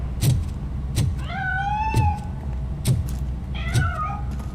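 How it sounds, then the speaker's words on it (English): A cat in RoboCop: Rogue City meows several times, with drawn-out, clear mewing calls mixed with sharp thumps, all over a steady low game-ambience rumble. "That cat must be hiding inside."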